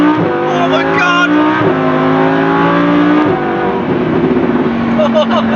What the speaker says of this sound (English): It is a very revvy car. It prefers the revs.